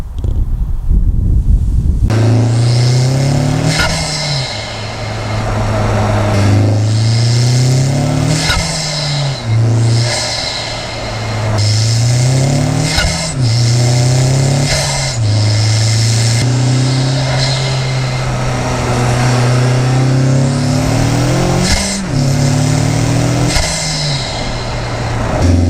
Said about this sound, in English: So this is the standard airbox. I took some video of this yesterday